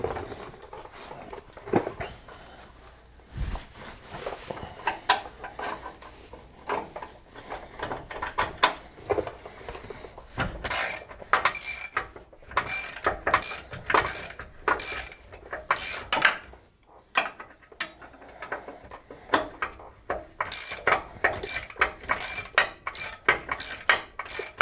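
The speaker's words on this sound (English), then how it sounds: "Get the wrench on there." A ratchet wrench works on nuts and bolts of a neglected front suspension and steering, with loud, close ratcheting bursts in rhythmic strokes and short pauses, heaviest in the second half.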